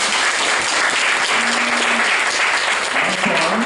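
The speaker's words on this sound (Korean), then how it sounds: "큰 박수 부탁드립니다" Dense, sustained applause from a lecture audience honouring a professor after a talk on oil and energy, a steady wash of many hands clapping loudly throughout with a brief voice tone heard faintly underneath.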